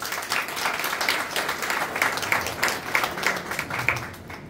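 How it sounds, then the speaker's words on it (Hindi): A church congregation during a sermon bursts into enthusiastic applause, a close, energetic clatter of many hands with slightly rhythmic surges that fade toward the end, and no speech over it. "खुदावंद की यीशु के जलाल के लिए जोरदार तालियां।"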